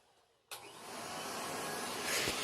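An Electrolux Model L vacuum cleaner switches on abruptly and runs with a steady, loud broadband roar of suction and airflow, slightly rising toward the end.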